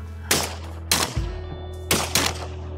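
Loud nearby shotgun blasts at duck camp, four sharp reports in two pairs with echoing decay, standing alone without talk.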